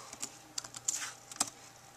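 Fingers tap out a short burst of irregular keystrokes on a computer keyboard, close and fairly soft in a quiet room with no talking.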